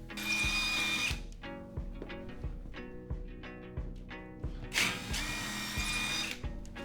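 A power drill bores into a wall with aluminum metal studs, its whine rising in loud bursts near 1 s and again near 5 s, with quieter tonal motor hum and clicks between them.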